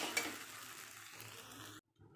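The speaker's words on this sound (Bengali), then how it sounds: "তো আমি আবার নেড়ে চেড়ে করে নেব।" Spicy vegetable semolina (suji) stirred in a pan, a faint soft sizzle and scraping for under two seconds before cutting off, quiet and close.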